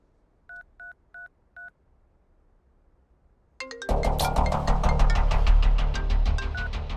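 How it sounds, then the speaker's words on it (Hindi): Four evenly spaced touch-tone beeps of a telephone number being dialed sound crisply and alone against near silence, followed a moment later by a sudden loud swell of dramatic film music. "फोन लगा।"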